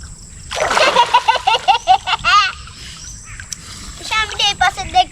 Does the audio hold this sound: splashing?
yes